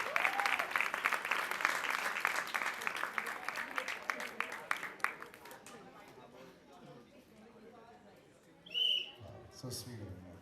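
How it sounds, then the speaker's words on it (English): A college crowd at a National College event breaks into dense, loud applause that carries for about five seconds, then thins into scattered claps and chatter, with a brief whistle near the end. "let's give a big round of applause."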